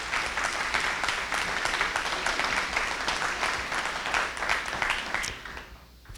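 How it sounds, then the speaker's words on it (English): Steady applause fills a hall at a school district's Teacher of the Year ceremony as honored employees are recognized, a dense crowd clapping evenly for about five seconds before tapering off abruptly. "If we could give them a round of applause"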